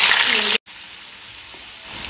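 Potatoes frying in hot oil make a loud, dense sizzle for about half a second. The sound cuts out abruptly, then a quieter steady hiss continues, and the sizzle swells again near the end.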